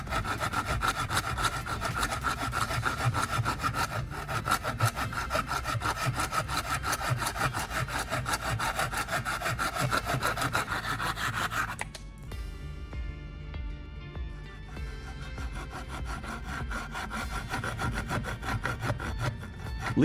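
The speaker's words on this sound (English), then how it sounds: "Using a saw, I carefully cut along the diagonal lines I drew." A hand saw cuts along diagonal lines through a small angled piece of wood meant for a drill-bit sharpening jig, making fast, steady rasping strokes that stop briefly around the middle, then resume lighter and slower, with no voices.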